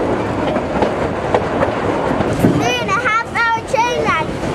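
The Durango to Silverton train runs along the Animas River, its wheels clattering in a continuous rumbling clickety-clack, while a voice talks over the rail noise during the second half.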